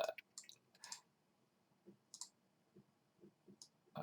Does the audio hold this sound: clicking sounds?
yes